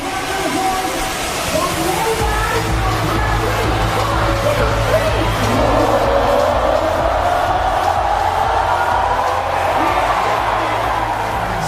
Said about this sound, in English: Sliding in to a wonderful applause at the Padang